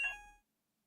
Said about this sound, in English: That alarm is just really loud